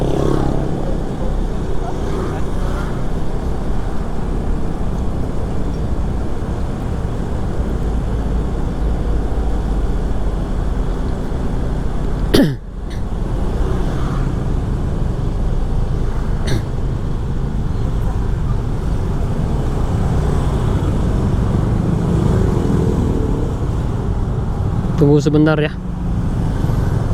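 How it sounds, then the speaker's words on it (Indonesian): Busy, congested road traffic in Canggu, Bali: steady car and motorcycle engine noise passing close by, with occasional louder pass-bys and a short horn near the end, and someone speaking briefly over it. "jalannya lagi ramai sekali ini. Ini salah satu jalan yang cukup ramai, sering macet di sini."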